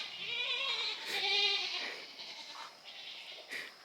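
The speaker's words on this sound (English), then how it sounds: "Got them noisy sheep come up here." Sheep on a family farm bleat close by, one long wavering cry followed by fainter, shorter calls, heard alone in quiet surroundings.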